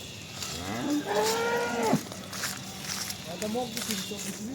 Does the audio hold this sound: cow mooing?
yes